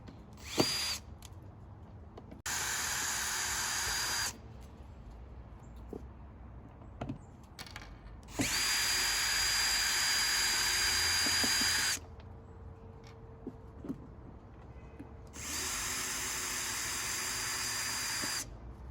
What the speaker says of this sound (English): I'm going to go across the back and remove all the screws from back there.